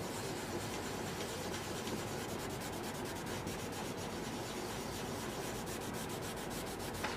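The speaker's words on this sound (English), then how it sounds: "I'm just taking this and I'm rubbing it with my finger" A tissue rubbed with a finger across a drawing, heard as a close, continuous scratchy rubbing with quick back-and-forth strokes, steady throughout.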